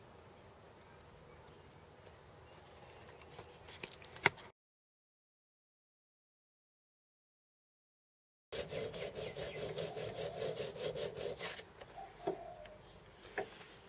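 A hand file rasps back and forth to square a quarter-inch hole in metal, faint rhythmic scraping strokes with a gap of silence partway through.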